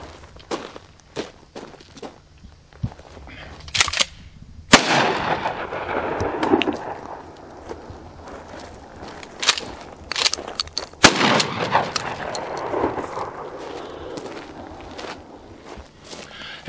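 A Mossberg Model 590 Special Purpose pump-action shotgun fires outdoors, with two loud, sharp blasts several seconds apart, each trailing off, amid lighter clicks and handling noises in between.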